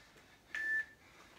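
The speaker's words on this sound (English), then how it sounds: "Little timer." A workout interval timer gives a single short, clear electronic beep lasting about a third of a second against a quiet room.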